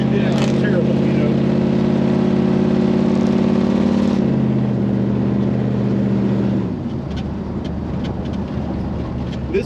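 A GM crate 350 V8 made in Mexico, fitted to a squarebody hot rod, runs at a steady elevated idle and then drops in pitch twice as the revs come down, loud and close, with some wind noise.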